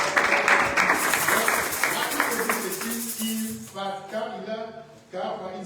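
A church congregation at a French worship service applauding, a dense wash of clapping that fades as a voice and sung or spoken phrases take over.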